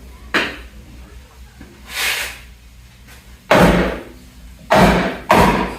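A holdfast is struck into a wooden workbench with five sharp mallet blows at uneven intervals, the later ones louder, each a heavy woody thud that rings briefly, with no talking.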